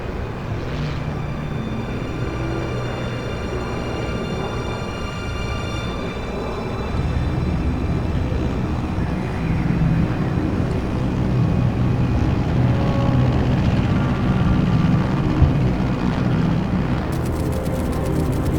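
An aircraft flies at altitude in the Metal Gear Solid Delta video game, a continuous deep droning hum that swells slightly partway through, with no voices.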